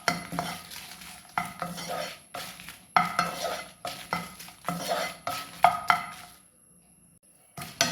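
Dried red chillies heating in hot coconut oil, a soft sizzle under repeated stirring and scraping of a spoon against the pan, with clinks of metal, pausing briefly near the end before resuming.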